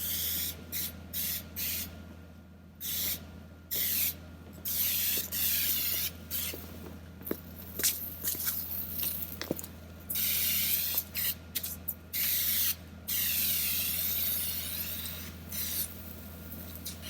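Repeated short bursts of a spray nozzle misting a keg while it is being detailed and washed, hissing on and off in quick pulses with brief gaps, close and fairly loud over a steady low hum.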